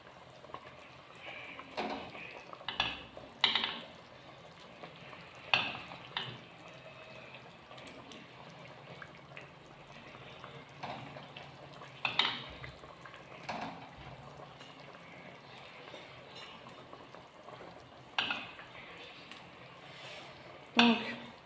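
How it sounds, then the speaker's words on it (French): Meatballs in red sauce simmering in a pan, a soft bubbling and sizzle with occasional sharper pops and clicks, quiet throughout. "je vais pouvoir mettre mes boulettes pour qu'elles puissent cuire"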